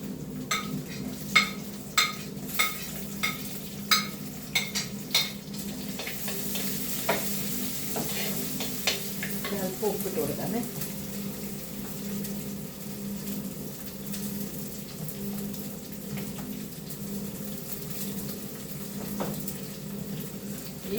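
Small onions drop into hot oil with ginger-garlic paste for a homestyle chicken curry, sizzling steadily while a spoon clinks and stirs against the pan in quick repeated taps, then the frying carries on alone.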